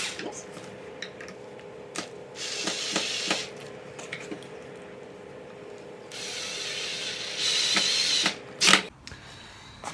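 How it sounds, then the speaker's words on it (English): A power driver sends pocket hole screws into a wooden screen door frame in two sustained whirring, ratcheting bursts, with a few light knocks between them. "A couple of pocket hole screws."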